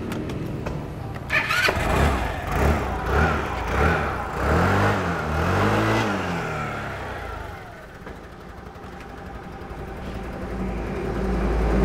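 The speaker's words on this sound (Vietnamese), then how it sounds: "xe đang nổ máy nha" An SYM Attila Elizabeth FI scooter engine cranks, catches and revs up with a rising, warbling note, then settles into a steady idle, loud and close.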